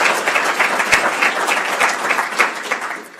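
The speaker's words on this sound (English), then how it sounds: "I'd like to give you a round of applause." A round of applause from the audience at a county State of the County address, brisk, close clapping from a crowd, fairly loud and continuous, easing slightly toward the end.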